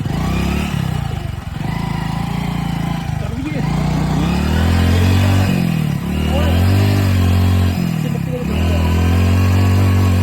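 A motorcycle stuck in deep mud revs repeatedly in labored bursts, loud and close, the pitch rising and dropping as it strains, with voices talking over it.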